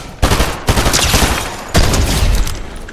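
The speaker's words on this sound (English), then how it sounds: "This shotgun is awful, man. It hits for absolutely nothing." A shotgun fired in a video game, with three loud, close blasts in quick succession, each a sharp crack trailing into a brief rumble.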